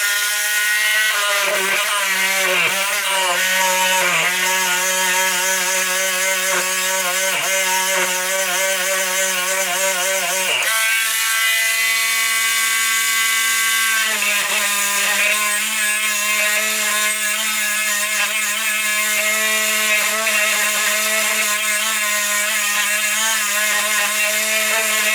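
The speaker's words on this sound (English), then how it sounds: "get the Harbor Freight Dremel with the actual real Dremel 443 bit" A Harbor Freight rotary tool fitted with a genuine Dremel 443 bit grinds steadily at a high whine, with pitch dips as it bites, then holds a continuous loaded tone, on a 1973 Williams Travel Time pinball flipper part.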